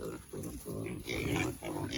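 Pigs on a pig farm grunt and snuffle continuously at close range, with low rough grunts overlapping and faint voices in the background.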